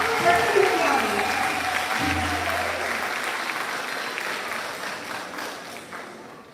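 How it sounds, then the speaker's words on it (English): Sustained applause from a school concert audience at a spring concert for 7th and 8th graders, loud and dense at first and gradually tapering off, with a low hum and brief voices underneath. "Round of applause all for Junior County."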